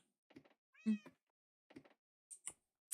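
Cats meow several times at close range, short separate calls with quiet pauses between them and one longer, louder meow near the start.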